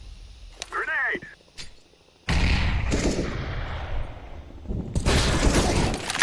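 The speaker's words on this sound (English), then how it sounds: "Grenade." A grenade blows up in a video game, a sudden loud blast with a long noisy rumble, followed seconds later by another burst of heavy noise, after some brief voices and clicks.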